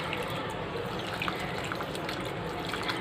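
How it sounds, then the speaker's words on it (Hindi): Warm water pours into a cooking pot for a vegetable and cluster bean pulao with rice, a steady close splashing gush that continues without talk. "यहाँ पर मैं पानी ऐड करूँगी"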